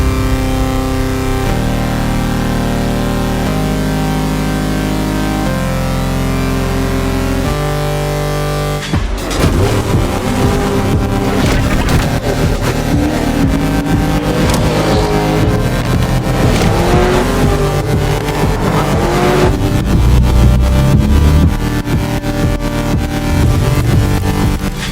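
Supercars including a Bugatti, Ferrari and Lamborghini drive past and rev, engines roaring and accelerating loudly, with tire noise, under a music track that changes abruptly partway through.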